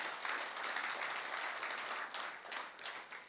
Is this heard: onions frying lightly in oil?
no